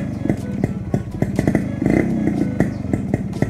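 A Kawasaki Brutus 140 motorcycle engine runs close by with rapid, clattering revs and a brief louder surge in the middle, with people talking faintly in the background.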